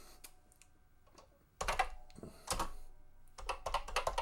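Fingers tap out bursts of keystrokes on an early Commodore VIC-20 computer keyboard, close and fairly quiet, with sparse clicks at first and then denser clusters of clacking.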